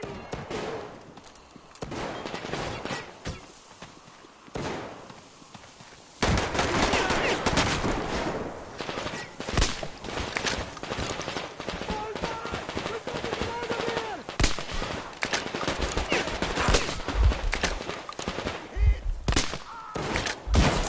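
A firefight in the shooter game Metro Exodus begins with sparse shots, then erupts into sustained bursts of automatic gunfire and heavy thuds, loud and close, with shouting voices breaking through the shooting.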